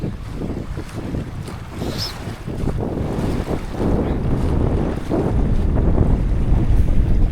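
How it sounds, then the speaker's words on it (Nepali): Strong wind gusts roar across the microphone on the shore of Rara Lake in Mugu, Nepal, while waves lap nearby. The noise is loud and continuous and builds steadily, and no voices are heard. "अनि एकदमै हावा लाग्दो रहेछ, छालाङ्गा छ"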